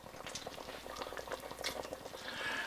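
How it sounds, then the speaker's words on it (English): Chicken curry simmering in a pot, a quiet, continuous bubbling with rapid soft pops and gurgles that grow slightly fuller toward the end, heard close with no voices. "Alright, this is simmering, so we're going to let it go for about 20 minutes"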